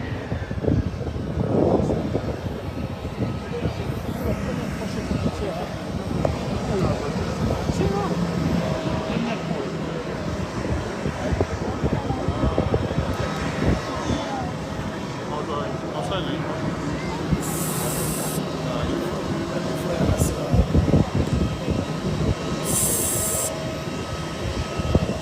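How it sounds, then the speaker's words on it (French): The presidential airplane lands at Mbuji-Mayi airport, a steady broad jet roar with wind buffeting that runs throughout at moderate distance, while a crowd and voices chatter over it. "L'avion du président de la République vient d'atterrir."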